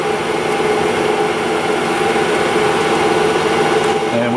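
A Blanchard 11-16 vertical spindle rotary surface grinder runs with its chuck on, giving a loud, steady mechanical drone with a constant hum and no pauses.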